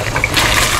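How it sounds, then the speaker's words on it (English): Pasta water poured from a multi-cooker pot into a strainer, a brief loud rushing splash of water up close. "Drain the water."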